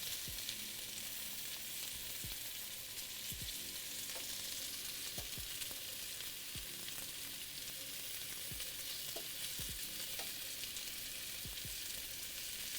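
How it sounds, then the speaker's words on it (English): Home fries sizzle steadily in a hot pan while a utensil gently stirs them, scraping several times at irregular intervals over constant frying crackle. "I'm being pretty gentle as I stir these."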